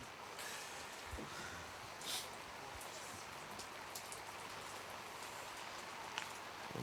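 Heavy rain pours down at a rugby match at Mount Smart Stadium in Auckland, a dense, steady hiss of drops with faint crowd and field noise underneath.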